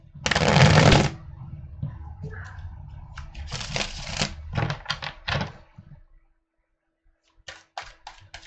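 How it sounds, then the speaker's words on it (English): Tarot cards shuffle in a riffling burst up close, then come softer handling clicks and a few quick snapping riffles near the end, with no talk over them. "Now let me shuffle, guys, and we go to Capricorns."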